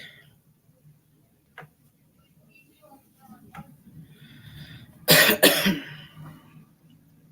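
A single sharp cough breaks through quiet, near and loud, amid soft speech and small handling noises.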